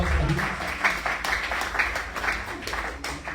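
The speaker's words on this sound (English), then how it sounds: "Please, a round of applause for him." Guests at a school old boys' gathering give a round of applause for an honoured alumnus, with loud, uneven clapping whose individual claps stand out, rising and dipping over a low rumble of room noise.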